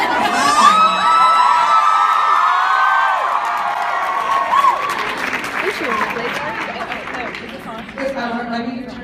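A large crowd at a ClexaCon 2017 convention panel cheers, whoops and applauds loudly and continuously, with shrill shouts rising above the roar, then settles somewhat near the end.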